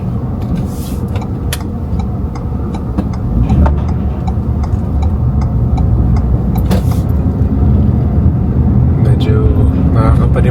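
A large moving vehicle rumbles along as it is driven, its low engine and road drone steady and loud beneath a person talking almost the entire time.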